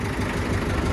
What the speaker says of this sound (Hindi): ट्रैक्टर खोलते हैं पहले। लो जी, स्टार्ट कर रखा है